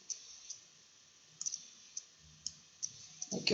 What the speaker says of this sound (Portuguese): Só dou um clique em OK.